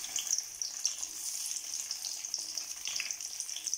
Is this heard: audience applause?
no